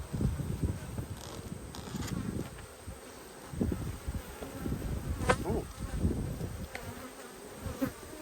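Honeybees buzz loudly around an open nucleus hive during an inspection, a dense wavering drone of many wings close by, with individual bees flying past.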